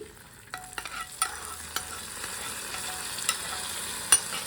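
Raisins fried in ghee are poured into sago payasa, giving a soft low sizzle with scattered light clicks and taps of the spoon and pan, fairly quiet and close.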